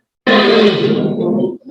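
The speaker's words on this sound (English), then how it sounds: "You hear that? That's a lion." A lion gives one deep, loud roar that starts abruptly and fades out gradually over a second or so, close and alone with no talk over it.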